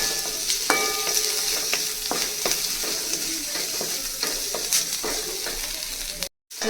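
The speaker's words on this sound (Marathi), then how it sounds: "आपण मस्त असं फ्राय करून घेणार आहोत।" Onion and capsicum fry in a pan with a steady close sizzle, broken by irregular stirring scrapes and taps of a spatula; a brief dropout near the end, no voices.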